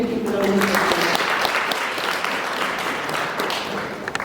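Audience applause at an alumni association networking breakfast, a dense, steady wash of clapping across the room that holds loud throughout, with voices talking over it near the start.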